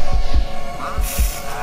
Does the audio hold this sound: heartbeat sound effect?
yes